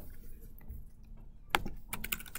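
Keystrokes tapped on a computer keyboard while someone writes code, a sparse scatter of clicks early on, then a sharp burst near the middle and a quick flurry of presses toward the end, close and fairly quiet.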